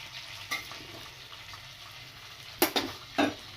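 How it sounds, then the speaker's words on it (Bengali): Whole garam masala, a cinnamon piece and two cardamom pods drop into melted oil and butter, giving a steady soft sizzle broken by a few sharp crackling bursts and stirring sounds near the end. "তেল আর বাটারটা মেল্ট হয়ে গেছে। এর মধ্যে আমি দিয়ে দেবো অল্প একটু গরম মশলা, অল্প একটু দারচিনির টুকরো আর 2টো এলাচ।"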